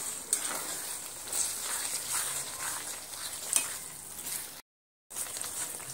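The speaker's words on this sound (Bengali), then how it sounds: "কাজু বাদামটা দিয়ে আবারও সুন্দর করে আমি কষিয়ে নেব।" Cashew paste frying and being stirred into a potato and egg curry gravy over low to medium heat, a steady close sizzle with scraping stir strokes, briefly cut to silence near the end.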